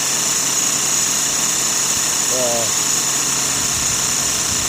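A small Sirius steam engine drives a generator at about 40 psi, giving a steady, loud mechanical hum and high whine throughout, with a brief tonal chirp midway.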